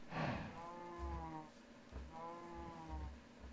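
A Minecraft video game cow gives two drawn-out, low moos in succession, fairly loud and clear with no talking.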